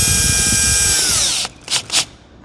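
A power tool drives a bolt tight on a DJI Agras T100 mist kit, one steady high whirring run that winds down, then two short bursts, close and loud.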